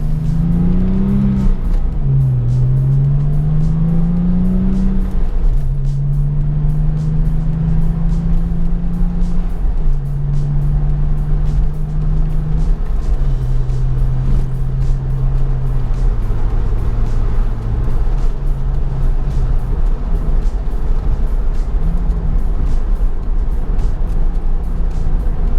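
A Porsche 996/997 Turbo accelerates hard through the gears, heard from inside, with a steady loud engine drone that climbs in pitch, then drops at each shift across several gear changes.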